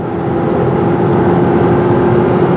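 Loud, continuous engine drone from a 2017 Jeep Compass pushed under hard acceleration, a steady groaning hum with road noise beneath, heard from the cabin and uninterrupted by speech.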